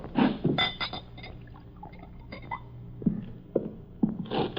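Drink poured into a glass inside a carnival wagon home, with short clinks and knocks of glass and a brief pouring trickle, separated by quiet gaps.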